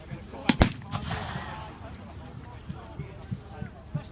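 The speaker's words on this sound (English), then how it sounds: "The artillery pieces shoot off well" Medieval artillery guns fire at a reenactment, a pair of sharp close blasts near the start followed by fainter scattered thumps, with voices murmuring underneath.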